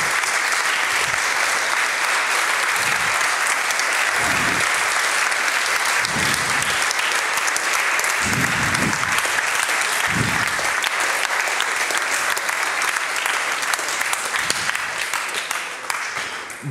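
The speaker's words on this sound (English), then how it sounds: "So please stand up and give them a round of applause." A conference audience at a closing keynote stands and applauds volunteers, producing sustained, dense crowd clapping that stays loud and steady throughout before tapering slightly at the end.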